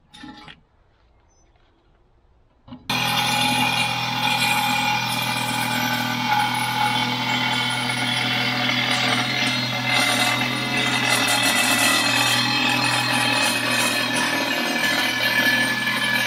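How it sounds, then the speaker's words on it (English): A Sawzall with a metal-cutting blade saws through the grate of an Oklahoma Joe's Longhorn reverse-flow smoker. After a short quiet start it kicks in and runs as a loud, steady, close buzzing rasp to the end. "I switched over to a Sawzall with a metal blade on it."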